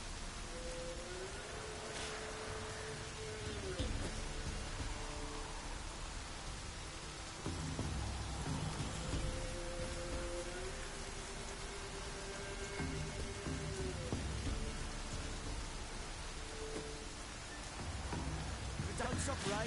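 Rain falling in The Witcher video game, a constant hiss of downpour with faint distant rumbles, overlaid by tonal in-game sounds and muffled voices in the background.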